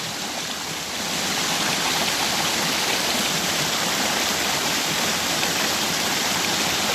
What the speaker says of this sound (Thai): ได้ยินเสียงน้ำตก